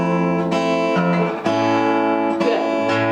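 Strummed acoustic guitar chords fretted with a thumb wrapped around the neck, in a song tutorial, with several ringing strums at a steady rhythm, close and fairly loud, with no talking.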